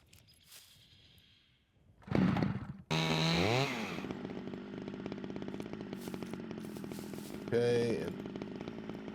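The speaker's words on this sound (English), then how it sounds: "Chainsaw." A chainsaw in the survival game SCUM starts with a few sputtering pulls, then roars into a steady, loud idle with a brief rev near the end. Someone says a couple of words over it.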